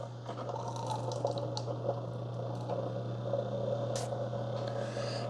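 Keurig K-Slim coffee maker, under repair for a thermostat fault, dispensing water: faint irregular drips and trickles over a steady low electrical hum, with a brief hiss near the end.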